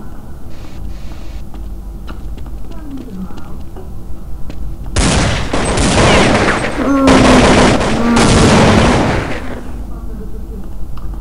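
Rapid bursts of Counter-Strike 1.6 gunfire erupt after a quieter stretch, loud and dense, with layered shots and a sharp ringing tone partway through.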